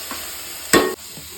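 Two medium tomatoes dropped into hot oil on a high flame, one sudden loud splash of sizzle that cuts off quickly over a faint background hiss, close and brief.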